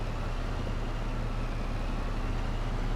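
A tractor in Farming Simulator 25 hauls a 24-meter weeder that is too big for it, its engine giving a steady, low, continuous drone with no talk over it.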